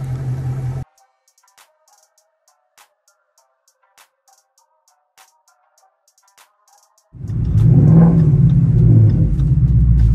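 A Ford Mustang GT or Chevrolet Camaro SS engine gives a short loud burst, then near silence with faint clicks. A heavy, close rumbling roar follows and swells into a sustained rev with rising pitch.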